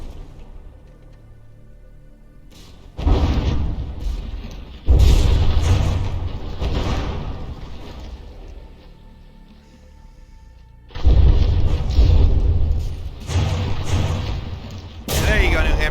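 Heavy battleship guns firing shells in the From the Depths naval combat game, Bismarck against New Hampshire, heard as a few loud booming salvos with rumbling tails under a commentator's voice.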